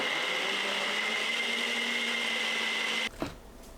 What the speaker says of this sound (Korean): 물 200ml 넣고 곱게 갈아줍니다.